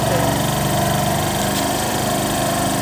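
A motorbike engine runs at close range with a steady, unbroken drone and constant vibration, no pauses or revving.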